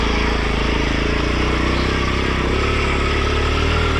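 A dirt or adventure motorcycle engine runs steadily at low revs, close and loud, as the rider walks alongside the bike on a slippery trail, with a constant rumbling drone and no speech.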